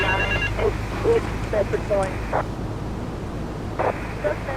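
A payphone rings in the video game GTA 3, a repeated electronic bell heard at the start alongside game dialogue and ambient background noise.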